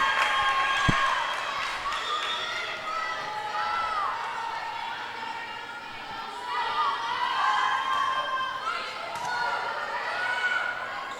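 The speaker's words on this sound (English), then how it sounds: "Crowd's anxious." Spectators at a college volleyball match between Averett and Southern Virginia hum and shout in a tense, steady roar, with a sharp thump early on and cheers rising and falling across the gym.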